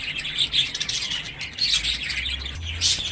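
Newly bought pet cockatiels in a cage chirp and tweet in quick, repeated high calls close by, with a faint low hum underneath.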